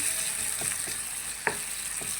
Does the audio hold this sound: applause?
no